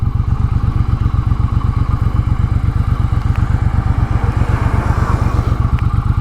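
A 2022 Triumph Bonneville Bobber motorcycle runs close by with a rapid, steady low-pitched engine thump, its rhythmic pulsing loud and continuous with faint clatter over it.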